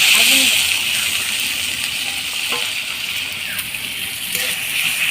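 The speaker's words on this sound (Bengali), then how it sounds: "আমি একটু জল দিয়ে দিচ্ছি" Water poured into a pan of spiced small fish, a loud gushing sizzle at first that settles into a steady bubbling hiss, close by, with a voice talking over part of it.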